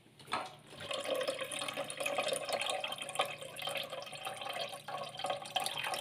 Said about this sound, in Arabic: هفضي شوية من الشرش اللي تحت ده اللي نزل معانا في الصينية